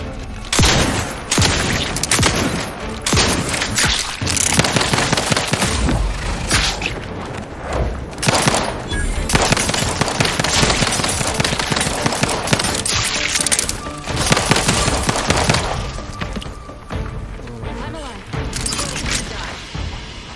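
Pistol gunfire in The Outer Worlds 2, repeated sharp shots and impacts scattered throughout amid dense game combat noise, with a voice talking at times.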